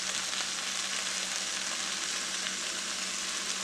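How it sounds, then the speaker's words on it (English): A pot of homemade beef stew sizzles steadily and loudly, a continuous bright hiss of frying with no pauses, heard up close with no talking. "Let that sizzle some more."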